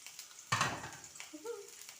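Tomatoes frying in a pan, a sudden soft sizzle bursting in as they hit the oil, then settling to a quiet hiss with a faint clink of stirring.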